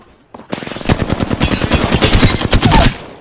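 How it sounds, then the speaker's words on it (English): An automatic weapon fires in an Apex Legends match, a loud, close burst of evenly spaced shots that builds in intensity over about two and a half seconds, with no talking. "Shots fired."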